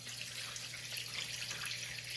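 Water running into an indoor grow pot, a faint steady trickle and splash with a low hum of pump equipment beneath, no voices.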